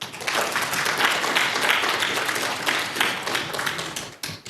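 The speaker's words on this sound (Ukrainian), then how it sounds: "Поаплодуйте, не стісняйтесь." A conference audience applauds steadily, a dense wash of many hands clapping together at moderate volume, tapering slightly toward the end.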